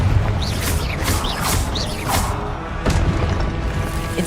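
Repeated Confringo explosive spell blasts in the video game Hogwarts Legacy, several bursts about half a second apart over a dense, rumbling game soundscape, loud and close.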